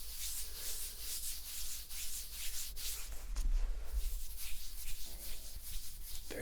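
Close-up rubbing and tapping on a bare muscular arm, soft dry friction strokes with a few firmer taps in the middle, intimate and quiet with no voice.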